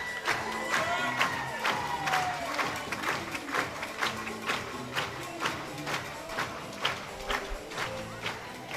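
Crowd at an evening swimming session cheering and clapping as swimmers are introduced on the pool side, loud shouts and applause echoing in the hall with sharp rhythmic claps and occasional thuds.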